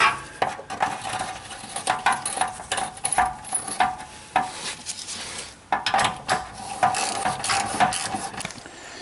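Ratchet wrench clicking in quick irregular bursts while tightening lug nuts on a trailer hitch installation on a 2008 Subaru Outback, metallic ticks close up with no talking.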